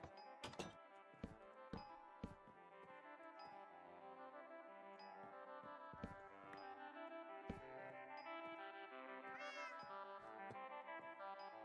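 A house cat meows in a few short calls amid a busy, harmonic-rich background with scattered thumps, nearby and moderately loud.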